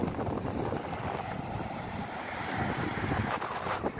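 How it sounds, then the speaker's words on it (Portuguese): Sea waves at Gruçaí beach roll and wash in a continuous broad rush mixed with wind buffeting the microphone, steady and fairly loud, with no voices. "Olha o mar, maravilha."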